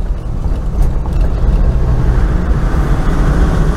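A Land Rover Defender on the move gives a loud, steady roar of engine and road noise, close and unbroken throughout.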